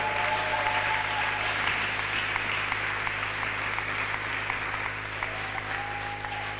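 A church congregation at a prayer marathon gives sustained applause, a steady bed of many hands clapping with a few sharper claps standing out, while a low hum and faint voices sit beneath.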